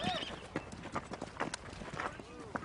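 Horse hooves clip-clopping in an uneven rhythm with a faint whinny, while people talk over it.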